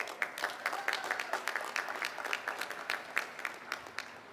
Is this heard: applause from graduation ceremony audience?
yes